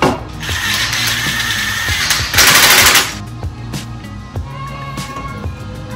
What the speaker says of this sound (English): we'll use one of your lug nuts, and I'll tighten it down just so it doesn't move